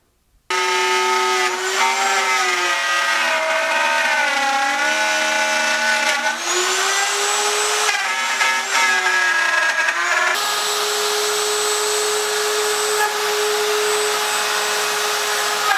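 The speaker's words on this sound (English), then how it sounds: "all I have to do is run the router" Router cutting a church-window shape from an old window frame for a greenhouse, a loud sustained whine with pitch swooping up and down as the cutter loads, running unbroken throughout.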